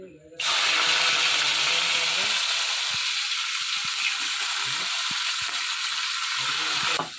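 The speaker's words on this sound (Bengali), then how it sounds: "আগে থেকে কুচিয়ে রাখা পেঁয়াজের টুকরোগুলো দিয়ে দেবো তেলের মধ্যে" Chopped onions drop into a little hot oil and start frying with a steady, bright hiss, while soft scraping and stirring knocks sound beneath it.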